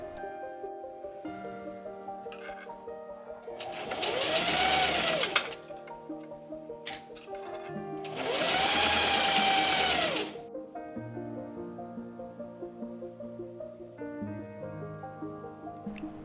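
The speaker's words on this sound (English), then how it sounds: "Once everything is all pressed, we're going to edge stitch the hem in place." A sewing machine edge-stitches the pressed hem of a button-up shirt in two steady bursts of whirring, each a few seconds long, with quiet handling between and after.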